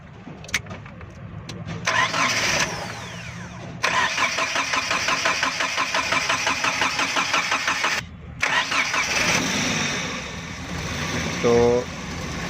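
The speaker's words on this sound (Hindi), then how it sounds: "हमने फिटिंग कर दी, आप गाड़ी को स्टार्ट करेंगे।" Starter cranks and a Toyota Hiace van's replacement 2RZ petrol engine catches, revving and settling into a steady mid-pitched idle, with brief pauses and another short crank, heard up close.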